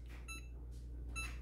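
An oven's control panel gives two short electronic beeps about a second apart as baking is started, clear and close against a quiet kitchen hum, with no one talking.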